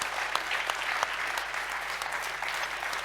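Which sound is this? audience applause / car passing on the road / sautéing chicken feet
audience applause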